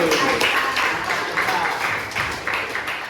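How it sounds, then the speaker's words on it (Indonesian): Classroom students clap their hands together in a lesson, a dense wash of claps with several rhythmic group bursts, fairly close, with voices talking over it. "Ya, tepuk tangan lagi"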